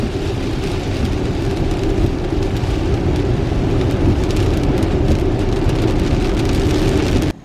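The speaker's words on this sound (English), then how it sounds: "Yep, it's raining." Steady rain falls in a dense, even patter that keeps going without a break and then cuts off abruptly at the end, with no one speaking.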